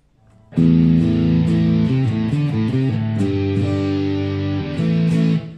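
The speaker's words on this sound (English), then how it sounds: "Let's try the high band drive." A Boss GT-1000 multi-effects unit set to its high band drive overdrive, heard through a sustained, distorted riff of chords and notes that starts after a brief pause and rings loud and alone.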